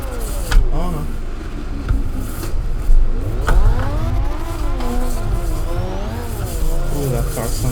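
Cars in the CarX Drift racing game rev and whine with rising and falling engine pitch, strong and continuous, with brief tire squeal mixed in and a voice talking over it.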